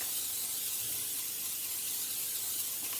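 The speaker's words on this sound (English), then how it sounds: "And if I don't spray, it will definitely stick." Cooking spray hisses from a can onto food so it won't stick, a steady, continuous close spray lasting about three seconds with no talk.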